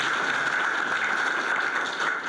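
Forum audience applauding a provincial official at an infrastructure and disaster-prevention forum, a steady sustained clatter of many hands from a seated crowd.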